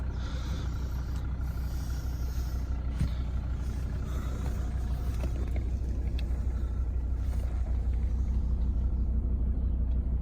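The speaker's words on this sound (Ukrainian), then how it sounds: "Мотор працює ідеально, без посторонніх шумів, звуків" A 2011 Volvo V50 D3 2.0 diesel with automatic transmission idles with a steady, low rumble that holds evenly throughout, with no voices.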